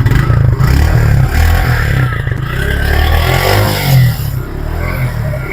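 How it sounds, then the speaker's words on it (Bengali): Motorbike engine running and revving on a village outing in Barishal, Bangladesh: a steady, close, loud low rumble that swells and eases with throttle changes, with some clatter over about five seconds. "গাড়ি বের করলাম এই গাড়িতে চলে যাব মানে বাইক"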